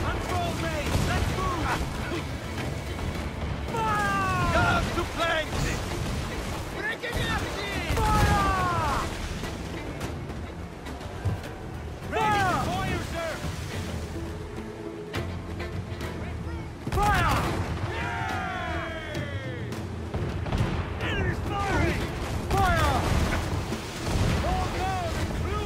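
Repeated booming broadside cannon volleys from a sailing warship in Assassin's Creed IV Black Flag, heavy blasts recurring every few seconds over creaking wood and splashing sea, with someone talking throughout.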